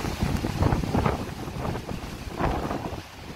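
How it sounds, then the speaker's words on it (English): Strong wind from Tropical Storm Isaias on Long Island, New York, roars and buffets loudly against the microphone in rough, uneven gusts, with no voices. "Whoa, it is windy."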